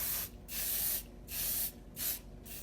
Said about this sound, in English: we'll come in with our Theory hairspray